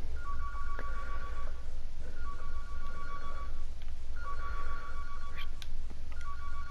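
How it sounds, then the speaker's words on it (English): A telephone rings repeatedly in the horror game Twilight Shift, with evenly spaced electronic ring bursts over a constant low drone. "Oh, I hear a phone."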